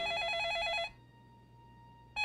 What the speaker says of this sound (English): Get in the door, phone's ringing.